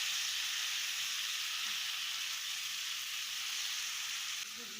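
Bitter gourd (karela) sabzi with tomatoes fries in a pan, giving a steady, even sizzling hiss throughout with no distinct stirring strokes; quiet and continuous, with no voices.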